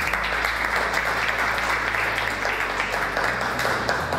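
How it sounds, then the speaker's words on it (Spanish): An audience at an awards ceremony gives a hearty round of applause, thick continuous clapping from many hands with a low hum underneath throughout. "Concepción Sánchez, recibe un fuerte aplauso y muchas felicidades."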